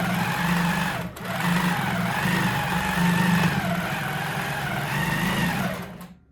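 A sewing machine quilts an heirloom quilt with a steady close hum and a fast needle chatter that runs continuously with one brief pause, then stops at the end.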